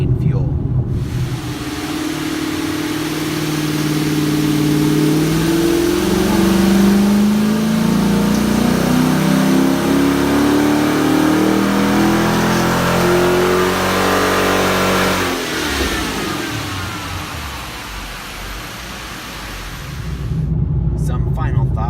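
A Dodge Scat Pack with the 5.7 V8, Stage 1 tune, revs hard on a dyno, its loud engine note rising steadily before dropping off sharply and settling to a lower idle-like rumble.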